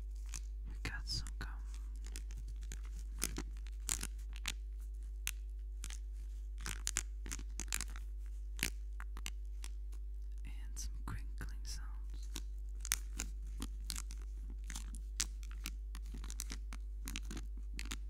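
Gum being chewed close to a microphone for ASMR, with a steady run of small wet clicks, smacks and crackles spread evenly and softly over a quiet background hum.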